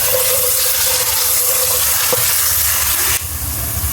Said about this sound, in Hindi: तो उसको हल्का सा ऑयल में हम फ्राई कर लेंगे, बस बामुश्किल 30 सेकंड।